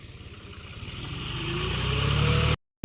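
An Eicher 241 tractor engine labors in a field, a steady low rumbling drone that grows louder and rougher as it strains, then cuts off abruptly near the end.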